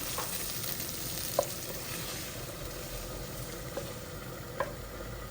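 Tengra fish frying in a pan for a Bengali fish bhuna curry, a steady close sizzle with a few sharp pops and ticks scattered through it, and no voices.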